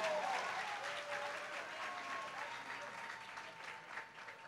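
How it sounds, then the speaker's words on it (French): Sustained applause from a large audience at a graduation ceremony, honoring the teachers; steady, dense clapping that fills the hall and holds at an even level throughout. "Je vous demande d'applaudir tous les enseignants de l'ISNAC,"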